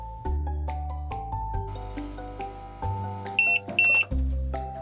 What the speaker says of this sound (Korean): 작업이 끝나면 이렇게 알림 소리가 납니다.